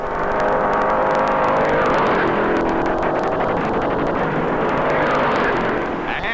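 Stock cars racing flat out around the high-banked Daytona 500 track at about 175 miles an hour, a dense continuous engine roar in old race footage, loud and steady with no clear voices.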